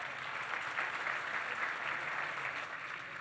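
Crowd applause at an outdoor Colombian government housing handover ceremony, a steady wash of many hands clapping at a moderate, somewhat distant level for about three seconds, with no speech.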